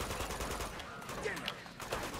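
Gunfire in the video game Uncharted 2, with rapid automatic bursts and scattered shots rattling on and off at a moderate distance, mixed with game ambience throughout.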